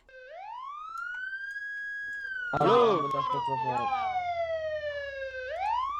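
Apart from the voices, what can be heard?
ambulance siren in MTA roleplay video game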